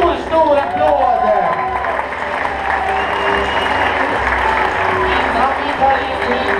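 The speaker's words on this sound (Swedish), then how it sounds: "Ge dem en stor applåd!" An audience applauds at a Swedish bugg dance competition heat with adult and junior couples, giving a steady, loud wash of clapping that carries on throughout, mixed with crowd noise and tones of music.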